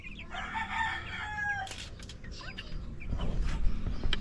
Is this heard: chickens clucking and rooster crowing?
yes